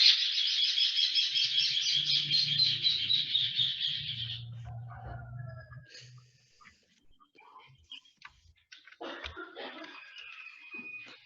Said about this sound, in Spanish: Se escuchan los pájaros y todo, qué belleza.